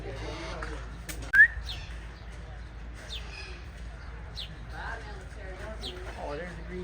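Parrots at a lion safari park calling in short chirps and whistled squawks scattered through the scene, one sharp loud call standing out, with people talking quietly in the background.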